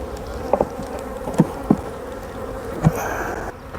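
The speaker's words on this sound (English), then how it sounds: "Any of the older bees have flown off. They're up and flying." Honey bees buzz and fly around an opened hive, a steady droning hum with several louder passes as individual bees zip close by the microphone.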